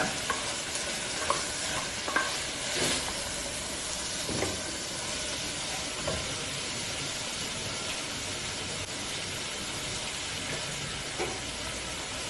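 Chopped onions fry in a pan for a pepper chicken dish, a continuous soft sizzle with repeated scraping and stirring clatters from a spoon, heard close up with no talking.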